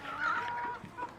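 Farm chickens in a flock give a short, soft burst of clucking nearby, with a higher call at the start and no talk over it.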